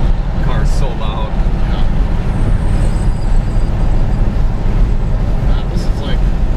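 A Dodge Hellcat's engine rumbles deep and loud while driving, a constant low roar with road and wind noise from inside the cabin, as people talk over it.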